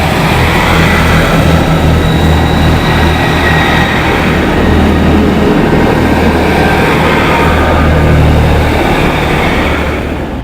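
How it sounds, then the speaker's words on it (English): A class 158 diesel train departing Birmingham International station, a loud close rumble and grind of engine and wheels that holds steady, then eases slightly at the end. "Now leaving Birmingham International, the 1609 service to Aberystwyth and Pwllheli"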